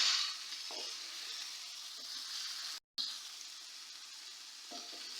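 Something frying in a pan until light brown for chicken buns, a soft, steady sizzle with a few stirring scrapes and a brief cutout midway, fairly quiet and unaccompanied by talk.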